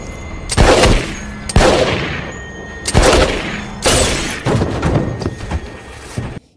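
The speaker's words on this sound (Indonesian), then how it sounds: "melepaskan 4 tembakan tepat sasaran, menewaskan keduanya seketika" Several loud, close gunshots from a pistol, each a sharp crack followed by a ringing decay, irregularly spaced about a second apart, with a few more bursts than four.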